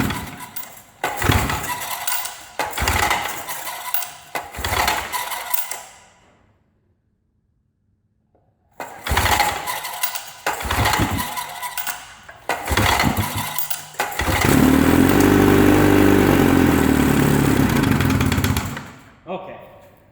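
An old Evinrude 10HP outboard motor fires up after several loud bursts and then runs steadily and loudly for about five seconds before shutting off.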